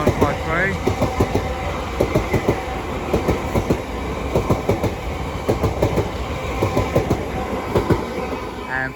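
Southeastern Class 465 electric trains running through New Cross on the South Eastern Main Line, with a steady rolling rumble and repeated clickety-clack wheel beats from close by, and voices talking over the noise.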